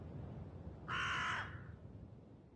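A single harsh crow caw from a video game, one loud raspy call of about half a second rising out of a quiet low rumble.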